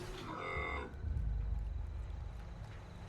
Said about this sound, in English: He's a cow.